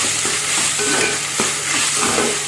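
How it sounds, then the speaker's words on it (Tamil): Small tomatoes sauté in a pan for coconut milk rice, a loud close sizzle with brisk stirring scrapes across the whole short stretch, no voices. "தக்காளி ரொம்ப வதங்கக்கூடாது, லைட்டாக வதங்கணும்"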